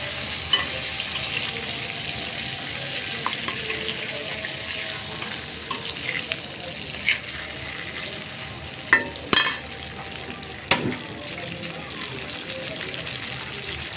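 Tilapia fish sizzles steadily in hot oil as it is turned over in the pan, a soft continuous frying hiss with a few scattered clinks and scrapes of the utensil, fairly quiet and close.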